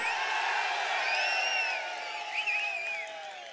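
A large crowd at an AIADMK political rally in Tamil Nadu cheers loudly, with whoops and whistles rising over a roaring mass of voices that eases slightly toward the end.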